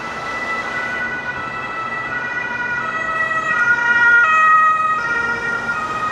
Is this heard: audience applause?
no